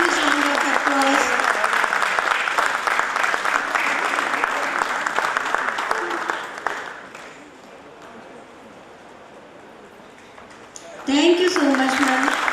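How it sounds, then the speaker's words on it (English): An audience at a cultural evening applauds loudly and densely for several seconds, tapers to a quieter murmur, then bursts into clapping again near the end. "Please give a huge round of applause."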